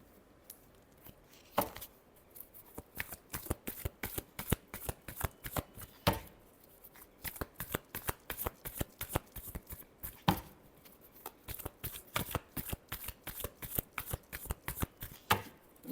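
Tarot cards are shuffled by hand in a rapid, continuous run of crisp riffling slaps and flutters, close and fairly loud, with no talking.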